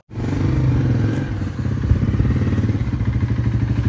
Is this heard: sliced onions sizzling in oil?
no